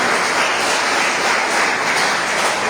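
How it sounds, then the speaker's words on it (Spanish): Church congregation applauding during a worship service, a steady dense wash of clapping that fills the whole stretch without a break and with no voices on top. "vamos a darle un aplauso a nuestro Dios"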